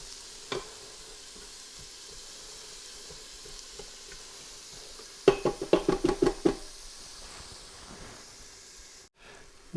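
Onion cooking in a Pampered Chef multi cooker for beef stew gives a low, steady sizzle, broken midway by a quick burst of sharp stirring knocks and scrapes, then a sudden brief silence near the end.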